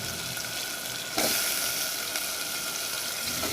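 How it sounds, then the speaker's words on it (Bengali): Fish pieces dropped into hot oil in a pan, sizzling and frying steadily, with a louder surge of bubbling after about a second as they hit the oil; close and continuous, no talk. "দেখুন আমি মাছগুলো কষাই ফেলছি একটু"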